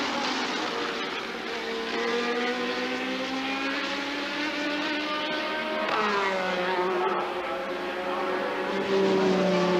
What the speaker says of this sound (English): the reliable and tremendously powerful V6 turbocharged Ferrari engine